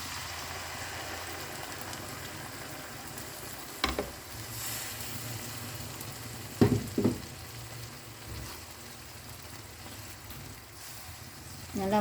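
Blended spice paste sautés in oil for chicken sambal, a steady soft sizzle with a few louder clatters of stirring partway through.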